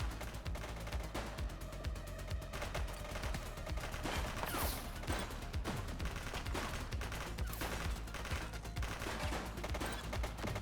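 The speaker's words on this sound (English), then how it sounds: "Shots fired!" Gunfire crackles through a police shootout in The Precinct, a dense, continuous fusillade of rapid shots and bursts at close range, loud and unbroken throughout.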